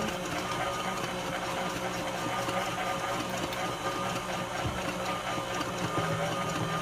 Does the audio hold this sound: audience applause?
no